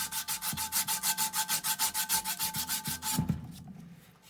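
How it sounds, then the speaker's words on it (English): Sandpaper rubs against a slowly turned blower motor part from an ICP ECM X-13 unit, a close, loud rasp pulsing in quick regular strokes before trailing off with a few light knocks. "I'm just spinning that slowly with my pinky finger while I'm working the sandpaper"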